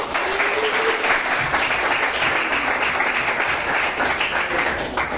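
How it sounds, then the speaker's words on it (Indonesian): Steady applause from a class of students during a school long jump lesson, continuous clapping throughout at moderate loudness. "tepuk tangan untuk Pandu."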